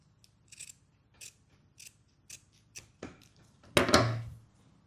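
Scissors snipping through terry towelling fabric while sewing a beach cover-up dress: several quiet, separate crisp cuts, spaced out, ending in a louder, longer close snip.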